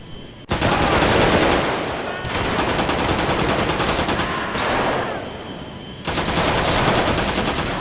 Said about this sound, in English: He tried to shoot him off the plane, but Vaughn acted fast and shot him first